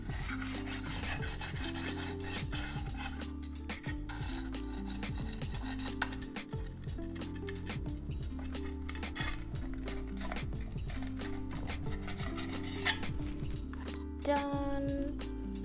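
A knife slices through tomatoes pressed between two plates, with scraping and light clinks of crockery and cutlery sitting under steady background music.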